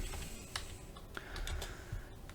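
Keys tapping on a computer keyboard while text is entered into a 3D animation program's modify panel, a steady run of soft clicks close by at low level with no talking.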